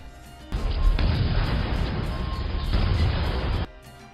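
A loud, sustained blast of roaring, crackling noise as set traps explode, bursting in abruptly, rumbling steadily for about three seconds, then cutting off.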